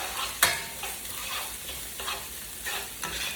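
Chopped carrots and green onions stir-fry in a hot pan for a few seconds, with a steady close sizzle broken by a sharp spatula scrape near the start and softer tossing strokes after it.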